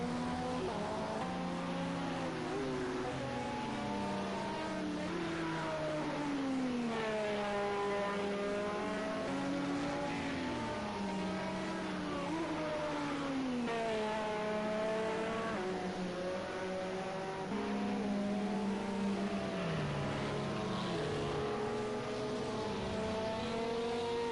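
Race cars on a formation lap at Monza through the Ascari chicane, engines rising and falling in pitch as several pass and change gear, a steady layered drone without speech.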